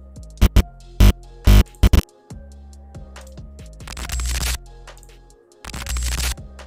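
A glitch sound effect previewed in video editing software: stuttering digital bursts and crackling static that cut in and out over a steady background bed, loud and close.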